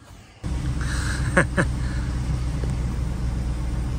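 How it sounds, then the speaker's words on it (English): A pickup truck engine cranks briefly and catches, then settles into a steady, low idle that continues without talk. "Let's start the truck."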